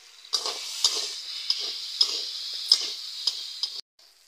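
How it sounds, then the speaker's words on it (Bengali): Drumstick stalks stirred in a cooking pan over a soft hiss, with a ladle tapping and scraping the pan in a regular beat of about one stroke every half second, close by, ending abruptly. "ভালো করে নেড়ে নিচ্ছি"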